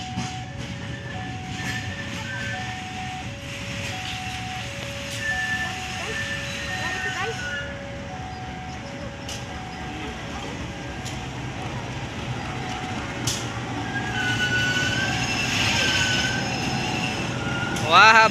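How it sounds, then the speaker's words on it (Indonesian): A shunting locomotive rumbles slowly past with metallic squeals and clanks, while an intermittent horn-like tone sounds and people talk nearby. "lok langsir ya"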